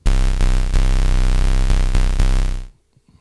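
A Behringer Crave mono synth plays a sequence, a loud, buzzy, bass-heavy pattern of repeating notes with regular rhythmic pulses that cuts off sharply near the end, leaving near silence.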